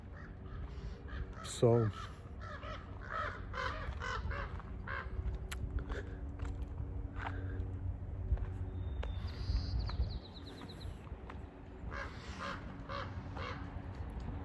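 Crows caw repeatedly among other birds in a park near the ocean, the calls moderately distant over steady outdoor background noise, with a person briefly speaking.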